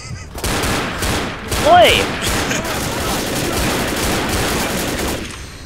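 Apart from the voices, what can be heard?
gunshot headshot in the video game Left 4 Dead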